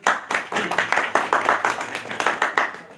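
An audience at a live music program claps for a singer, a steady run of sharp, fairly even handclaps that carries on without a break.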